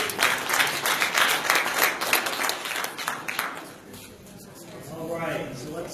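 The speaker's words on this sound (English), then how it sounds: "Give him a round of applause." Clapping from a meetup audience for a presenter, a loud burst of many hands in the first few seconds that thins out, followed by a voice speaking as the applause dies away.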